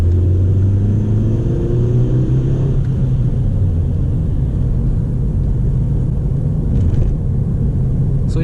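Steady low road rumble from a new car on friction tires driving a country road, a continuous loud drone with engine hum and no talk.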